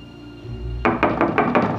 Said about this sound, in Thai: เปิดประตูให้พ่อหน่อยซิน